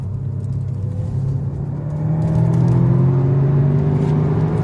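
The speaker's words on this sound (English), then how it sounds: "you can hear that LS3" LS3 V8 swapped into a Porsche 944 pulling at full throttle on a mountain touge road, a loud steady drone that climbs in pitch and grows louder partway through, heard from inside the car.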